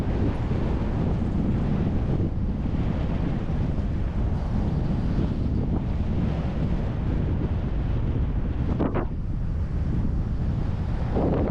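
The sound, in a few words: wind rushing past during fast Brompton bike descent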